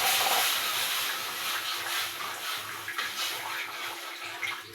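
Milk poured into a pan of semolina, a steady hissing splash lasting several seconds with no talk.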